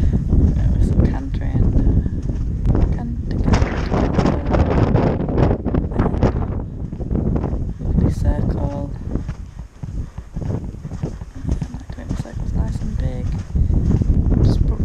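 Heavy wind buffets a helmet-mounted action camera while a horse is ridden at a canter, a constant loud roar and rumble across the whole stretch, with a rider talking over it.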